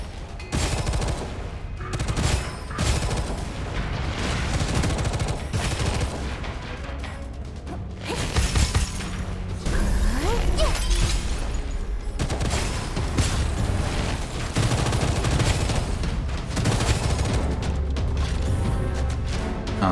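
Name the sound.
explosions in the video game Gunfire Reborn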